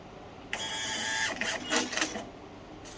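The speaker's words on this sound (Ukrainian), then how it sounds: "Принтер надрукував такий тест." A SUNMI device's built-in receipt printer runs a test print, giving a close, steady whirring and buzzing feed of paper that lasts under two seconds, with a few stuttering bursts before it stops.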